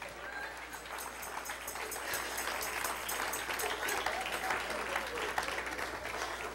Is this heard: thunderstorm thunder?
no